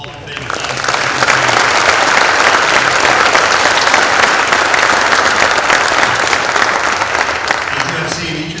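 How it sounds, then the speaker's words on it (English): Sustained applause from an audience at a school district Hall of Fame induction ceremony, broad and steady for about eight seconds with faint voices mixed in beneath the clapping. "give me one more round of applause for all of our Hall of Fame"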